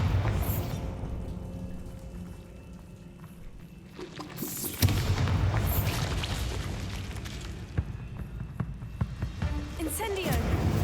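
Blasting spells burst in Hogwarts Legacy, producing deep booming explosions with rumbling debris. One sharp blast lands midway and is followed by continued crackling and rumble.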